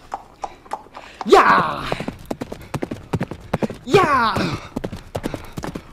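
Horse hooves clip-clop in a quick, steady rhythm throughout, with a voice shouting excitedly twice over the galloping beat.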